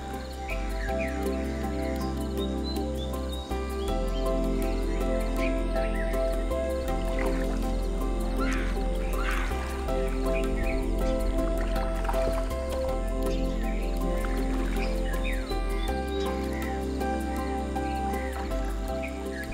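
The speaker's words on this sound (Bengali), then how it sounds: "ভোর হতে না হতেই কীর্তিপাশা খালের বুকে বের হতে থাকে ছোট ছোট নৌকা" Small boats setting out along the Kirtipasha canal in rural Jhalokati at dawn, with steady low water and engine-like drone, faint drips and splashes, and scattered birdsong throughout.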